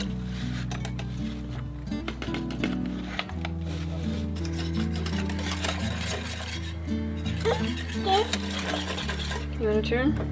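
A utensil stirs and scrapes brown gravy in a cast iron Dutch oven, with repeated soft clinks and scraping close by under a steady hum and background music.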